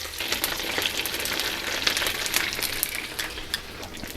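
Pork schnitzel cutlets fry in a pan at home, giving a close, steady crackling sizzle with dense bright pops throughout and no voices.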